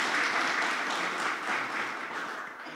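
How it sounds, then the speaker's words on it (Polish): Applause from the audience at a parliamentary election debate, a full, steady round of clapping that stays loud throughout and eases off slightly toward the end. "brawa oczywiście."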